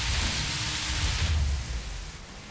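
Steady rain hisses over a low engine rumble while driving a Subaru BRZ from the cockpit through a city in The Crew Wild Run racing game. The rain fills the whole clip and eases slightly toward the end.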